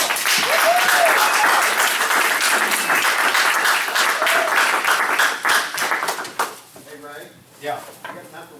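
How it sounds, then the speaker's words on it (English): A crowd applauds loudly and steadily for several seconds at an entrepreneurs' meetup anniversary event, then the clapping thins out and fades as a voice begins speaking. "So please give them a round of applause."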